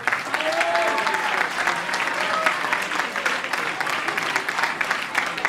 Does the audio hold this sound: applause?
yes